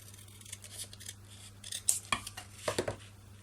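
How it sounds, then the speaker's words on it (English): Scissors snip through craft material while a hinge journal is being made: several crisp, close cuts cluster in the second half against a quiet room hum. "it's a little bit long, so I might just trim that"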